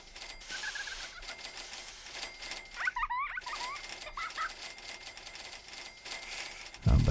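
Rain in the theme park game OpenRCT2 makes a soft, steady patter, with brief chirpy blips in the middle and a low thump at the very end.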